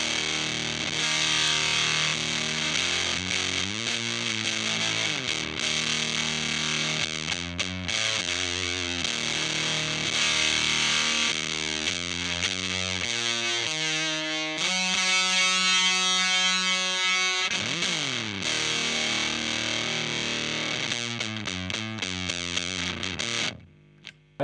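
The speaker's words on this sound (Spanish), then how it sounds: "Esa era la cápsula del puente" An electric guitar on its bridge pickup runs through an Earthquaker Devices Erupter fuzz pedal, playing loud, saturated riffs and sustained chords with a buzzy distorted edge, briefly cut off at the very end.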